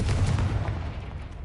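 A Confringo blasting spell goes off in a Harry Potter video game, a single loud, booming burst with a heavy low rumble that fades over a second and a half.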